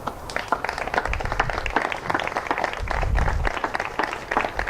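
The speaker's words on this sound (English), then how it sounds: "Another round of applause, please." A crowd at a Cystic Fibrosis Foundation presentation applauds steadily, dense clapping swelling slightly toward the middle before easing off.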